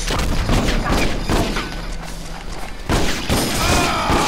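Gunfire in the Western shooter video game Red Dead Revolver, with a busy run of loud shots, booms and impacts, some in quick bursts, filling the whole stretch.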